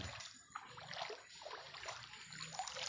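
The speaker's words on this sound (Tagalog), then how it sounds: "Ayun ang tubig oh." Broadband rushing floodwater flows steadily past homes throughout, with splashy surges, heard close by and fairly loud.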